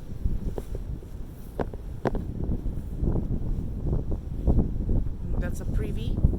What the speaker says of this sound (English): It's actually not that cold, it's just windy.